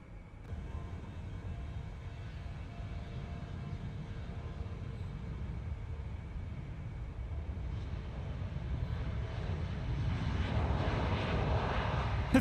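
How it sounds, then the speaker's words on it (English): Jet engine noise from a CRJ airliner in the video game Microsoft Flight Simulator 2024, a steady low roar that grows gradually louder toward the end, with no talking. "Not expecting the CRJ to be that loud."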